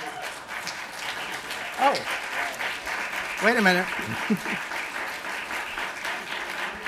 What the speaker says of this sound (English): Holy applause, there's a bunch of people you need to applaud here.